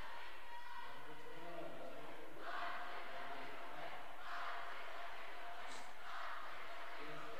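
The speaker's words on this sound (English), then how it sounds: "Crowd begins there, I believe we will win chant." Home crowd at a high school basketball game, Lyman at Star Valley, chanting in rhythmic swells that rise and fall across the gym, with a commentator talking over it.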